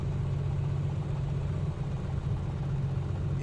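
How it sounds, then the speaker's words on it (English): Simulated piston engine of a Piper Comanche idling low with a weak, misfiring cylinder, a steady loud droning rumble that stays constant throughout, with no voices. "You can see and hear that cylinder misfiring."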